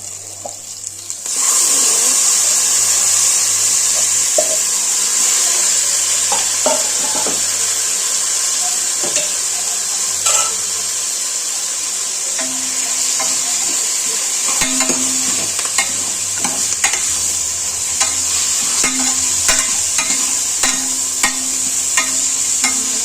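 A quarter kilo of mutton frying in a pan starts with a sudden loud hiss, then a continuous steady sizzle punctuated by repeated spatula scrapes and clicks, with faint music beneath.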